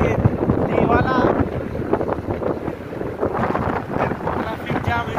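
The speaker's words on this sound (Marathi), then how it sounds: "तर वारा लय सुटलेला आहे" Strong wind buffets the microphone while travelling by road toward a hilltop temple, a steady loud rushing roar throughout, with people talking over it.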